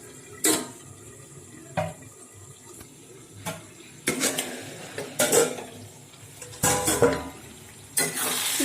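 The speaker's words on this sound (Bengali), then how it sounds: "দিয়ে দিচ্ছি ঢাকা।" A lid is set on a pot of chicken being braised Bengali-style without water: several sharp metallic clanks and knocks spread over a few seconds, close and fairly loud, with a soft bubbling hiss between them.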